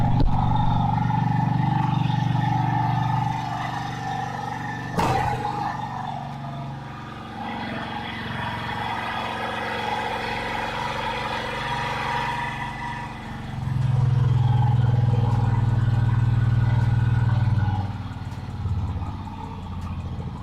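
A car engine idles too high after a throttle blip, a steady droning hum that runs throughout, with one sharp click partway through and a deeper surge of engine noise near the end.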